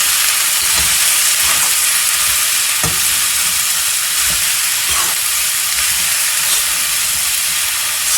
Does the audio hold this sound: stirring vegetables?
yes